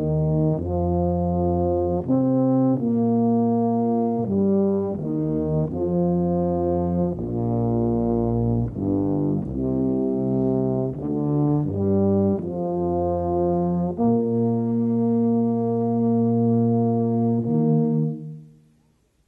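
A tuba and euphonium ensemble plays a smooth, connected legato phrase of low, rich sustained brass chords that shift steadily for about eighteen seconds before the final chord fades away, with no one talking.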